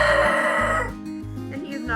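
A Cuckoo Marans rooster gives a loud, close, harmonic crowing call that breaks off partway, with a shorter call rising again near the end.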